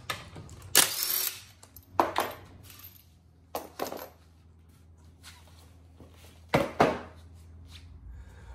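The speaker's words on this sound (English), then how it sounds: "take a 17mm socket to remove" Front wheel bolts come off a Fiat 500 Abarth with a 17mm socket: several separate bursts of power-tool whirring and metallic clinks, each a second or so long, spaced apart over quiet shop background.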